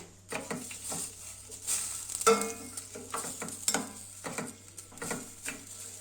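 Washed rice toasting in a pan for pilaf, stirred repeatedly: soft sizzling under a series of scraping stir strokes and light clinks of a utensil against the pan, close and moderately loud.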